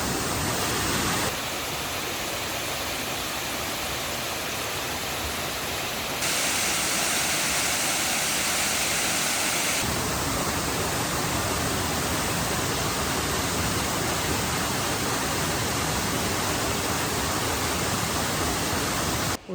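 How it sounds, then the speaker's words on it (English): Rose River Falls in Shenandoah National Park roars with a dense, continuous rush of falling water, loud and close, filling the scene steadily with no voices. "May I present to you Rose River Falls."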